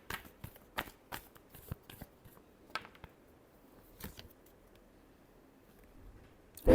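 A deck of cards being shuffled, heard as a string of soft, close riffling flutters and taps with quiet pauses between, ending in a louder handling thump.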